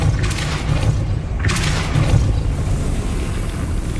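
The Depulso spell being cast in Hogwarts Legacy makes a dense, roaring blast of noise with a deep rumble underneath and two brighter whooshing surges, continuing steadily throughout.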